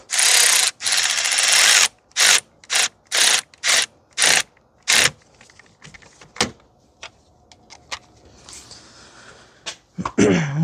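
A ratchet wrench tightens a battery terminal on a 2005 Toyota Corolla 1.8, with a string of loud, close ratcheting bursts followed by softer single clicks, and no talking.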